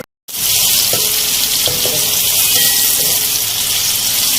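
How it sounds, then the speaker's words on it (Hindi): Chopped onions fry in a pan for masala bhindi, a loud, close, continuous hiss and crackle of sizzling oil that starts abruptly after a brief silence and holds steady throughout. "प्याज देखिए हमारी यहाँ फ्राई होना स्टार्ट हो गई है"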